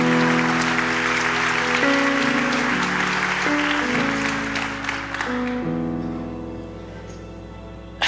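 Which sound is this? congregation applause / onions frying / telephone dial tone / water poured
congregation applause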